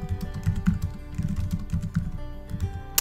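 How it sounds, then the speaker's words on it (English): Fingers type a name on a computer keyboard, a quick, uneven run of light key clicks close up, continuing steadily over a faint background hum with no talking. "I'm going to type in my name there"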